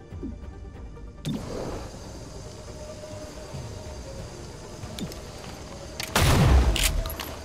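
Weapon fire in XCOM Chimera Squad comes as a sharp shot early on and a louder burst near the end, with a quiet low background hum between them.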